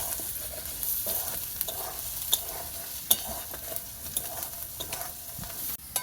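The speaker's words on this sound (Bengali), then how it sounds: "নেড়ে চেড়ে এইভাবেই ভেজে নেব। খুব বেশি ভাজবো না আমি ডালটা" Chana dal being lightly stirred and dry-fried in a pan for chicken kachori filling, with a steady soft sizzle and repeated scraping strokes of the spoon, close and fairly quiet, no voices.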